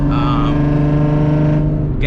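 Car fitted with a new clutch and flywheel cruising on 93-octane fuel, its engine giving a steady loud drone with strong low harmonics that hold an even pitch throughout.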